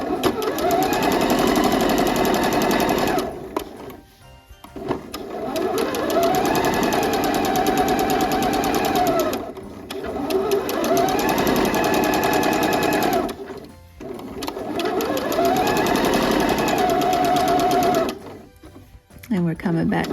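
A sewing machine stitches a flat seam on luxe pajamas in several long runs of rapid, even mechanical chatter, each stopping briefly before starting again. The machine sounds close and loud.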